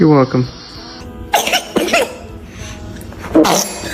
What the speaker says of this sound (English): Were you about to sneeze?